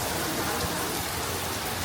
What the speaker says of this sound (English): So the rain has started, and yes, everyone's sort of getting covered in.